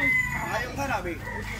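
A stag rooster, a binabay kabilyara gamefowl about eight to ten months old, crows once in a long harsh call, close and loud, with faint voices in the background.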